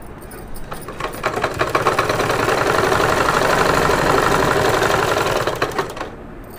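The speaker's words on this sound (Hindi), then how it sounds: "अब इसी पे मैं डबल सिलाई मार दूंगी।" An electric sewing machine runs a continuous line of rapid stitching on a baby frock, its steady rattling whir building up, holding for several seconds, then slowing to a stop.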